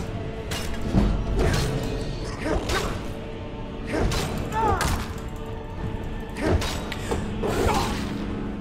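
Door mechanisms creak and clunk in the Skyrim video game, several heavy grinding creaks and thuds repeating over about eight seconds, loud and close, with occasional voices reacting.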